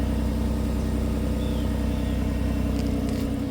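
A Nissan Murano idles steadily from the rear, with a low, even exhaust rumble that stays quiet and constant and has no revving.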